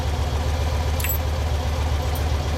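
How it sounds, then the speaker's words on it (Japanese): A 1999 Honda V-Twin Magna motorcycle (MC29) idles close by, with a steady, deep, throbbing engine rumble that holds an even loudness throughout. "エンジンを聞かせてもらえる？"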